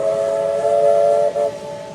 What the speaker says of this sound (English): A steam engine whistle?